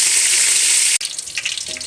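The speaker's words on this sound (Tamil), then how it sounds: "அடுத்து கடுகு போட்டுக்கலாம்" Loud, bright sizzling of seeds in hot oil for a second, then it cuts to quieter crackling and spattering.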